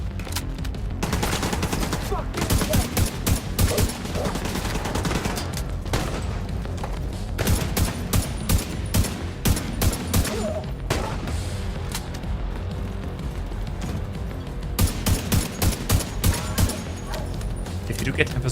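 Rapid bursts of gunfire from Tom Clancy's The Division 2 video game, with repeated automatic volleys and single shots crackling loudly throughout, pausing briefly between clusters, with the player's voice occasionally heard over the shooting.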